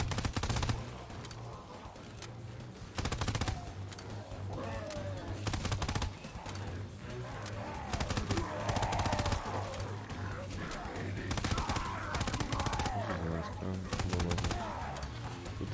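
Tommy gun fire in Call of Duty: WWII, rapid bursts of automatic gunfire repeating throughout amid other game noise and someone talking over it.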